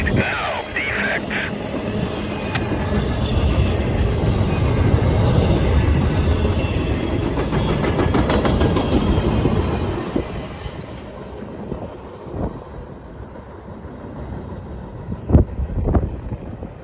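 Norfolk Southern freight train cars rolling past on a cold afternoon, a loud rumbling roar with rail clatter that fades into quieter background sounds as the last cars go by.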